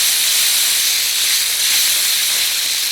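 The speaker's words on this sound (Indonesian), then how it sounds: "bumbu yang dihaluskan kita tumis hingga harum dan matang" Ground spice paste sautéing in hot oil for sayur lodeh, a loud, continuous, even sizzle and hiss throughout, with no talking.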